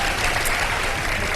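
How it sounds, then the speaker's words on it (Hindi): Studio audience applause on a live Ramadan iftar television show, a dense, loud, even roar of clapping from a large crowd, continuous and close. "तालियां बजा दो यार"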